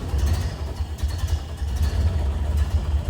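A 1931 Ford Model A Sports Coupe engine running close by, a steady low rumbling idle with light mechanical clatter, loud and continuous with no talk over it.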